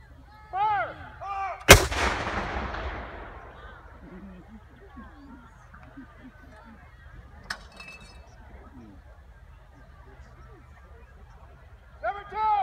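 An artillery gun salute at a Canadian Remembrance Day memorial ceremony fires one loud, booming blast that rolls away, then a fainter second shot; geese honk and voices can be heard around it.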